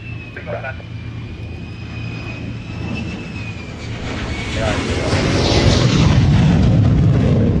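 Two Eurofighter Typhoon jets arriving at the Royal International Air Tattoo 2022, engine roar swelling from a distant whine to a loud close rush, with talk over the noise.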